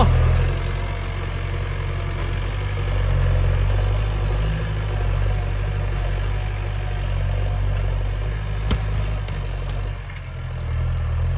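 A Massey Ferguson 4708 tractor engine runs steadily nearby, a loud continuous low rumble with slight swells in level and no voices.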